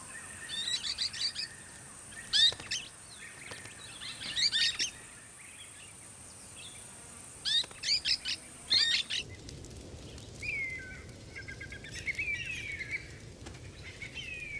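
Parrot parents and their five-week-old chicks call at the nest in dry-season grassland, repeated sharp chirps and squawks in bursts over a steady high whine, with softer chatter and wing flutter later.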